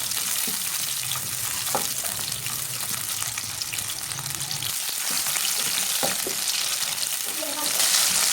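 Half a kilo of onions frying in a pan, a dense continuous sizzle close by with occasional scraping and clinks of a utensil against the pan.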